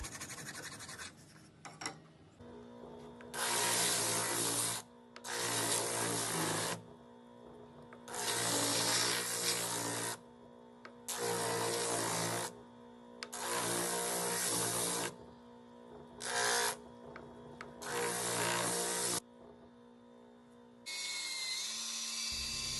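Rough, scratchy hand sanding with 80-grit sandpaper on a sculpted Chevrolet Opala model comes in steady bursts, about seven long strokes with short pauses between them, while a low steady hum runs underneath.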